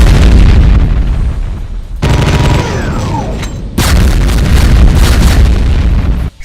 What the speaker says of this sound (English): BFG 10K shots.